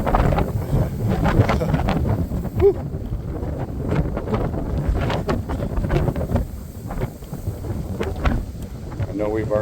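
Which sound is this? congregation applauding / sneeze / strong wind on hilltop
strong wind on hilltop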